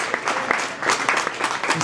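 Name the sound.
audience applause at legal cannabis event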